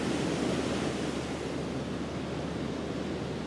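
Ocean surf at Bells Beach during a professional surfing contest, a constant roaring wash of breaking waves with a wind-like hiss, steady and fairly loud, no voices.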